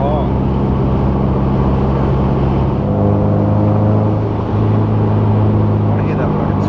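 A four-cylinder car engine in sixth gear chugs along at low revs, a steady rumbling drone heard from inside the cabin, with people talking over it.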